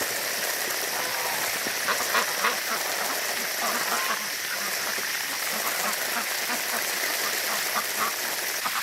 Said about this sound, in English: these ducks are going crazy in the water here